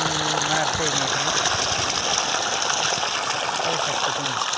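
A solar-powered 3 hp pump forcing water out of a 2.5 inch pipe: a loud, continuous rushing gush, close by and steady throughout, with a voice partly over it.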